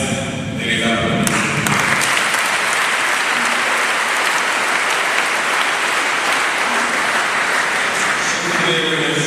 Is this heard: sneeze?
no